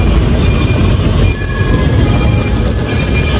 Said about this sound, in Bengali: ওই যে গাইস মেট্রো দেখা যাচ্ছে